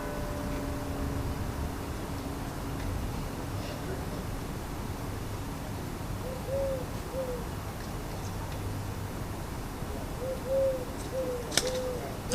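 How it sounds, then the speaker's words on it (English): Doves cooing in soft, low repeated coos that come in two separate bursts midway and near the end, over a steady hiss of background noise. "I don't usually see the doves being this pushy."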